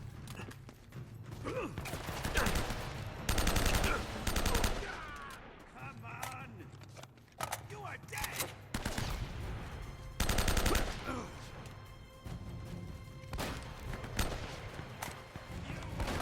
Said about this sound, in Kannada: ಎಲ್ಲ ಕಡೆಯಿಂದ ಹೊಡಿತಾ ಇದ್ದಾರೆ